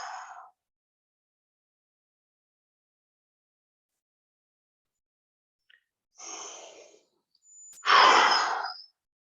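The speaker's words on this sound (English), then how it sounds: "Deep breaths in and exhale." A person breathing deeply during a stretching exercise: a short exhale at the start, then after a long silence a breathy inhale and a longer, louder sighing exhale, close and alone.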